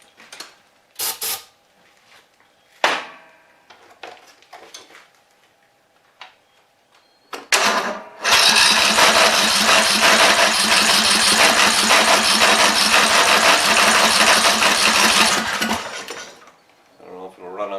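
A Toro zero-turn mower with a swapped engine comes to life after scattered clicks and clanks. It fires and runs loudly and close for about seven seconds with a steady, buzzing drone, then cuts off.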